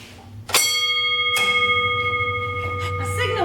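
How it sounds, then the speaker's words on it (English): Mine signal bell used by miners underground to communicate with the hoistman, struck twice with bright ringing tones that sustain and decay, then lighter taps follow, all over a low background hum. "So signal bells were the way that miners would communicate with the hoistman"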